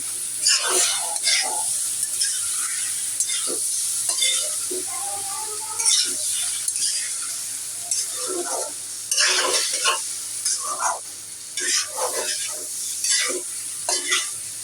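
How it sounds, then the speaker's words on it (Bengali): Biryani meat being stir-fried with rice in a pot, a steady loud sizzle broken by repeated scraping and clinking of a spoon against the metal, close up, with no talking. "তো এখন আমি বিরিয়ানির মাংসটা দিয়ে দিব"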